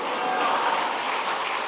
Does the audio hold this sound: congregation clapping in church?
yes